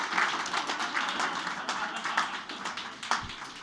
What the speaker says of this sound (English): we're going to give you a round of applause for all of your hard work